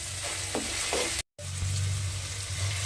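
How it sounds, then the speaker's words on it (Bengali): Onion and garlic fry in a pan with a steady close sizzle and a few stirring scrapes, cut by one brief moment of silence before the hissing resumes. "এইবারে পেঁয়াজ আর রসুনটা দিয়ে আমি প্রায় 30 সেকেন্ড মতো একটু ভাজা ভাজা করে নেব"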